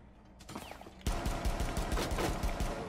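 Rapid gunfire in Rainbow Six Siege during a shield team and shotgun rush, a dense string of loud close shots starting abruptly after a quieter mechanical click.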